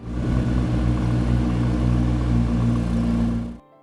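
A deep, steady 3.8-liter twin-turbo V8 supercar engine rumble idles loud and close, holding a low throbbing drone before cutting off abruptly near the end.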